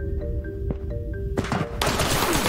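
Gunfire in the VR shooter Ghosts of Tabor, a few sharp shots over a low background hum, then a dense burst of rapid fire that grows louder toward the end.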